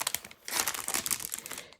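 Crinkly rustling of plastic packaging around brand-new thrifted fabric, a close, continuous crackle with bursts of louder crumpling over about two seconds, heard alone.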